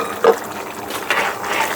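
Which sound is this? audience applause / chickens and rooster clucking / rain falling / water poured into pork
water poured into pork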